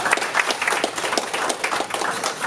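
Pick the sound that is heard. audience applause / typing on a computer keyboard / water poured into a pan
audience applause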